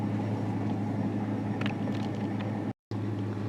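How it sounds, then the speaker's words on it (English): A car engine idles steadily at operating temperature, a vehicle with a random-cylinder misfire code and a bad oxygen sensor, giving a continuous close rumbling hum with a brief dropout near the end. "as you can see, engine running right now"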